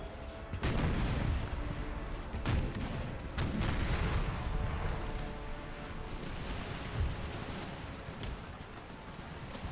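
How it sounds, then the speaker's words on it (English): Artillery booms roll across a battlefield in Empire: Total War, with repeated loud, deep blasts over a continuous rumbling din of distant gunfire. "we'll pound them with artillery"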